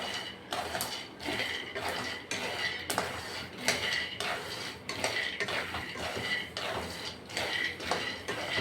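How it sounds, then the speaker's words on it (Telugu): Peanuts dry-roasting in a pan for peanut chutney are stirred with a utensil, giving steady rattling scrapes and clinks of metal on metal in regular repeated strokes, close and moderately loud, with no talking. "విత్తనాలన్నీ మాడుకోకుండా ఇలా కలిపెట్టుకుంటూ వేయించుకోవాలి"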